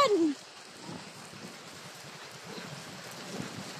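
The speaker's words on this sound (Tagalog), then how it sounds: "Lumakas na yung ulan." Heavy typhoon rain with wind, a steady faint hiss of falling water throughout, opening with a brief louder burst at the start.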